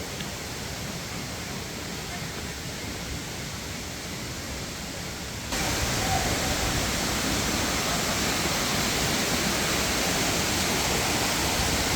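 Mantayupan waterfall in Barili, Cebu, Philippines, a dense continuous roar of falling water heard close up, growing noticeably louder partway through and staying steady, with faint voices in the background.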